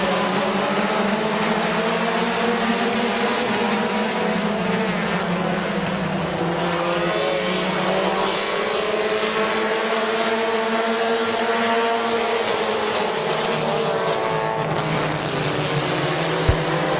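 Compact race cars in a 15-lap feature at Midvale Speedway roar continuously and loudly close by, with engines rising and falling in pitch as they pass one another in a tight pack.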